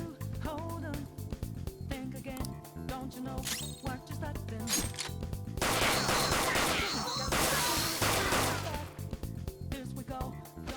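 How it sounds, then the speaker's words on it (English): Gunfire from a gun in the video game Persona 5 Royal: rapid bursts of shots with sharp impacts, dense and continuous, mixed with game music and effects. "You have the gun with you, right? Point it at a shadow and fire."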